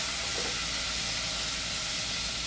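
Frozen onions hit hot butter in a pan and set off a steady, loud sizzle and hiss that holds evenly for a couple of seconds with no talk over it.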